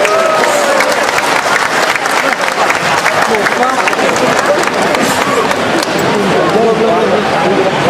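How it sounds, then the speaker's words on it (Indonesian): An audience claps loudly and continuously at an event, a dense, unbroken roar of applause that fills the whole stretch with no pauses. "Mari sekali lagi kita berikan tepuk tangan yang meriah untuk Bapak Haji Yos Sutomo"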